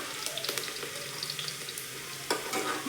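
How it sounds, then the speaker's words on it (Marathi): Garlic sautéing in a pan for a tempering, a close, steady crackling sizzle punctuated by light scraping stirs and a slightly louder burst of spitting oil near the end. "लसूण आपल्याला छान असा परतायचा आहे। लसणाची ना फोडणी खूप छान लागते याच्यात"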